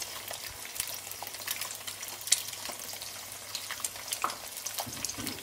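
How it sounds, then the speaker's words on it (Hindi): Salt and crushed black pepper get stirred through a hot pan, giving a soft, steady frying crackle with scattered spoon scrapes and light clinks. "और इसको जल्दी से चला लेंगे ऐसे"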